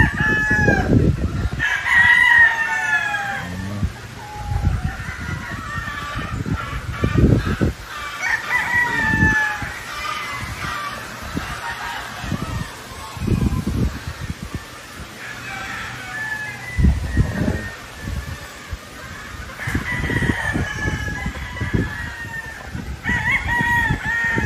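Power Lemon gamefowl roosters crow repeatedly on a farm in the Philippines, several loud cock-a-doodle-doos from near and farther birds, with clucking and rustling between.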